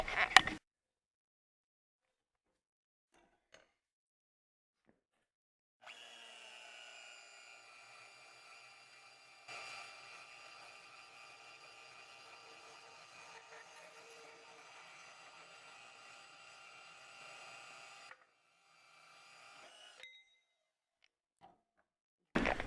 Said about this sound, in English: I'm gonna use a portable bandsaw to cut this